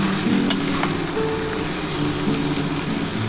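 Egg chowmein noodles with capsicum, carrot, soy and tomato sauces stir-fried in a pan, giving a steady close sizzle with a few faint scrapes and clicks, no voices.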